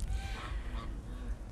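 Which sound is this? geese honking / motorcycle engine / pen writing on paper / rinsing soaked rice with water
geese honking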